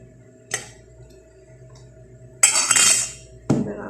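Fruit salad being mixed with honey in a bowl, a quiet background broken by a spoon clink, then a longer burst of scraping and clattering against the bowl and another knock near the end, close and without speech.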